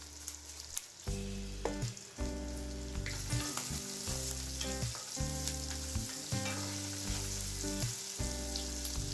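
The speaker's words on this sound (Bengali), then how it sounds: "পেঁয়াজ মরিচগুলোকে আমি হালকা ভেজে নিচ্ছি" Steady, loud sizzling of onions and green chillies frying lightly in a pan with salt, continuous throughout with no talking, a low rhythmic tone pulsing underneath.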